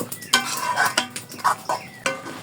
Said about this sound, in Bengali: এখন দিয়ে দিব মরিচের গুঁড়া আর একটু নেড়ে দিব